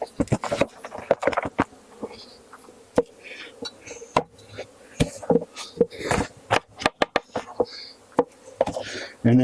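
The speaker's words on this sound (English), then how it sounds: "This box of bees will get dumped in." A packed box of bees is dumped into a hive while making nucleus colonies, giving a series of sharp knocks and thuds over a steady buzzing swarm, close by.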